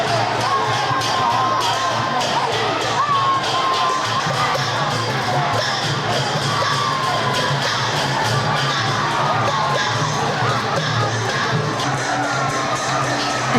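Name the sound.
festival crowd cheering and children shouting at paper fire-balloon launch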